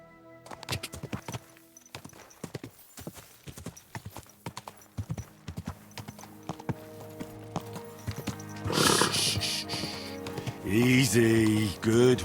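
Horse hooves clip-clop at a walking pace in Kingdom Come: Deliverance II, a steady run of close, distinct steps, followed near the end by a loud whinny and snorting over louder ambient game sound.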